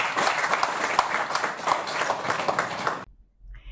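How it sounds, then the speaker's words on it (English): Staff at a National Health Insurance Authority training session applaud warmly. The clapping is dense and lively for about three seconds, then stops abruptly into near silence. "Let's give a round of applause."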